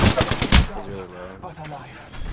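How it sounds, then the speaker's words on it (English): Enemy gunfire in an online shooter game: a quick, loud burst of rapid automatic shots opens, then tails off into quieter rumbling and a scrap of chatter, with faint shots returning at the end. "The enemies are shooting at me."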